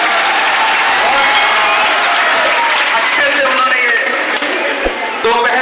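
Loud, sustained applause from a seminar audience in Sir Syed Hall, Ghazipur, a dense wash of clapping mixed with crowd murmur and voices that holds steady for the whole stretch.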